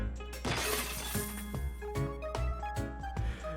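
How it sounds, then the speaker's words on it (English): In Yu-Gi-Oh! Master Duel, a pot thrown at a goblin smashes with a sharp, close shattering burst, followed by a few scattered breaking accents over sustained tonal ringing. "He threw the pot at the goblin, causing it to shatter into many pieces."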